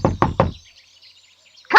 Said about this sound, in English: he walked up the path and knocked at the door